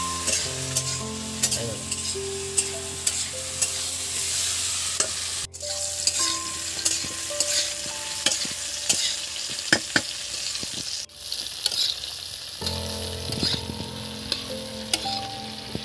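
Bitter gourd and potato fry in an open, uncovered pan with a steady close sizzle, broken by sharp clicks and scrapes of a utensil stirring throughout.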